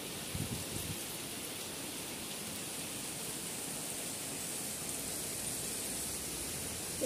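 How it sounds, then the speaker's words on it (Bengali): Heavy rain falls in a steady, even hiss of dense drops, continuous and fairly faint throughout with no voices. "লাইটের দিকে তাকালে বোঝা যায় অনেক জোরে বৃষ্টি হচ্ছে"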